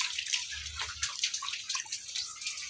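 Rainwater trickles and drips close by near a flooded spot where fish gather, with a brief low gurgle early and scattered bright splashes throughout.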